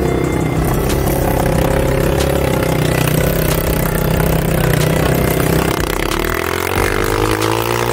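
A motorcycle engine runs steadily at close range on a sandy, dusty mountain trail near Kislovodsk, a loud, even drone with a faint clatter and a slight shift in pitch near the end.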